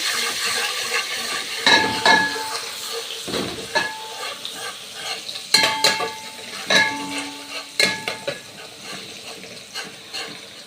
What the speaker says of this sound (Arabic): معلقتين سمنه بلدي حلوين، واروح حاطه الثوم، احور الثوم